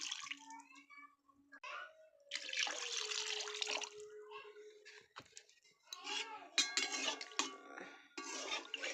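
Water is poured into a cooking pot of potatoes in oil, coming in two splashing bursts, with a voice talking quietly between them.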